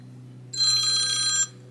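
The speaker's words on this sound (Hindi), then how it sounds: "सुमैया का फोन आ गया" Telephone ringing: a single short electronic ring of about one second rises over a steady low hum, with no voices.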